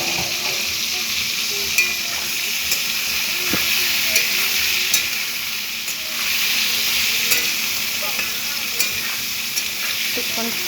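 A spatula stirs food frying in a pan, a steady close sizzle with scattered scrapes and taps against the metal throughout.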